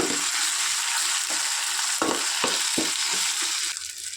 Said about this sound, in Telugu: ఇప్పుడు ఇది పచ్చి వాసన పోయేంత వరకు బాగా ఫ్రై చేసుకోవాలి